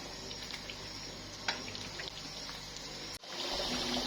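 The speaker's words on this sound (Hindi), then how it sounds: "मेरे कोफ्ते थोड़े ज़्यादा हैं तो मैं इस हिसाब से पानी डाल रहा हूँ" Water trickles steadily into kofta curry in a kadhai, a soft, continuous pouring with a brief clatter partway through and no speech.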